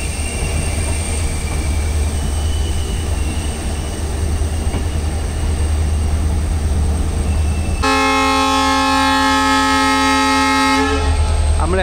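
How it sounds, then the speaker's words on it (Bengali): Riding a train on the Kolkata to Mizoram rail route, it passes alongside a standing train with a loud, steady rumble of wheels, then a long blaring horn blast sounds for several seconds near the end. "ওই ট্রেনটা দাঁড়িয়ে রয়েছে, আমাদের ট্রেনটা পাশ দিয়ে যাচ্ছে।"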